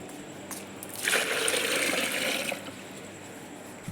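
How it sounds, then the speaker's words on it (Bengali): Water being mixed and poured onto a garden plant on a hot day, a soft splashing trickle rising for about a second and a half, then fading back to quiet. "আমি এখন এই জলটার মধ্যে জল মিশিয়ে নিই, ওই জলটা গাছে দিই"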